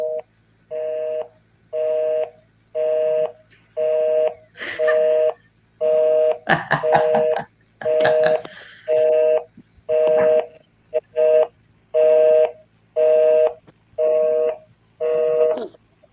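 A long series of evenly spaced telephone keypad tones, each beep lasting about a second, with brief static bursts partway through; no talking.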